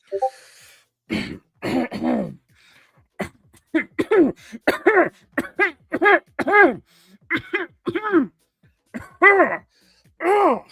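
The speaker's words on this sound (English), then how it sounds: "Sorry, I had to clear my throat there." A person repeatedly clears their throat and coughs in a series of short, harsh bursts with pauses between, close and fairly loud.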